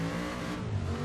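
A supercharged Chevelle 454 SS engine in Forza Horizon 3 revs hard in a short burst, a dense, steady mid-pitched growl heard close with no talking.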